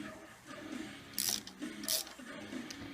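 Ratchet clicking in two short bursts as a bolt is tightened on the timing cover of a Buick 455 engine, quiet and close amid low workshop noise.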